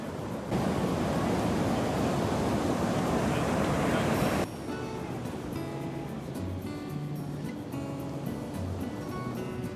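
Ocean surf on the beach at Kalaloch on the Washington coast pours out as a loud, dense roar for a few seconds, then drops abruptly to a quieter steady wash with faint scattered tones on top.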